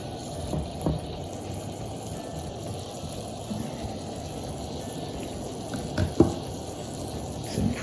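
Pork and pumpkin red curry simmering in a pot, a steady low bubbling and burbling that runs the whole time, with a few soft knocks near the end.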